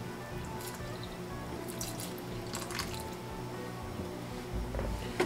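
Water poured onto a potted plant inside an Ikea greenhouse, a steady close trickle and splash with soft drips and squishy soaking sounds running throughout.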